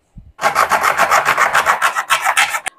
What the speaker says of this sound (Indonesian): tiga keranjang kita potong semua